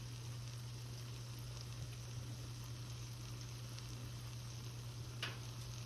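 Onion rings fry in 350-degree oil, giving a soft, continuous sizzle and crackle at low volume over a steady background hum, with one brief sharper pop near the end.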